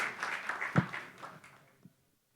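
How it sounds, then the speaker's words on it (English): Brief scattered clapping from an audience welcoming a startup pitcher at a university startup ideas event, a thin patter that fades out within about two seconds. "A big round of applause to Yahya Khalid Al Ali, who'll be pitching for us 3D"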